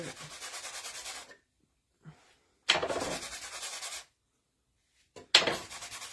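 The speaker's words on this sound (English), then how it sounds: "we're going to wax one more time on top of all of this to make sure we protect it" Wax being rubbed by hand across a wooden serving tray, coming as three bursts of dense, steady scrubbing strokes with short quiet gaps and a couple of light taps between them, close and fairly loud.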